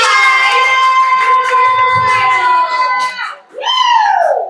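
A wrestling show crowd at a live event cheers loudly and steadily for several seconds, a dense wash of voices with whistles or shouts on top, briefly dipping before swelling up again.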